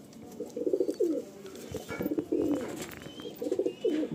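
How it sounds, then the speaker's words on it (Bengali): Madrasi pigeons give repeated throaty coos in short bursts, close and fairly loud, with small rustles and handling noises between the calls. "প্রচণ্ড ছটফটে পায়রা।"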